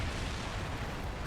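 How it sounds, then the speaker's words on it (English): Continuous rumbling explosions from the dragon-flying video game Lair, a dense, steady roar of blasts and booms filling the whole moment with no clear gaps or speech. "Flying through the explosions is quite fun."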